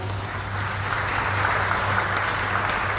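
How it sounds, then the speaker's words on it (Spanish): Applause from a congregation during a Sunday Mass in church, a brief continuous wash of clapping at moderate level with no talk. "Muchas gracias y un aplauso para el Padre."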